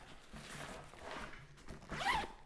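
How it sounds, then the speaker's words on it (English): Zipper on a VSGO Pocket Ranger 25L camera backpack being pulled, a close, continuous scratchy zipping that rises to a brighter pull near the end, with no talk. "Zip."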